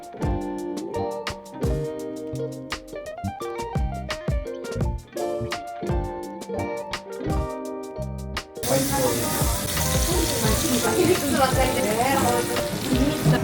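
King crab and snow crab sizzle on a small propane grill at a Hakodate restaurant table, a steady hiss rising louder in the second half beneath music and voices.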